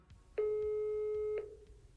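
A single telephone busy signal tone sounds after dialing a number, one steady beep lasting about a second against a faint background murmur.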